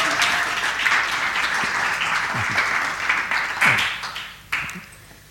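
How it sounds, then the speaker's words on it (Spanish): An audience at a lecture on climate change in film applauds, a steady dense clapping that thins out toward the end, with a faint voice briefly underneath. "Y hago extensivo el aplauso a nuestra técnica de imagen y sonido, Ana, sin la cual no hubiera sido posible."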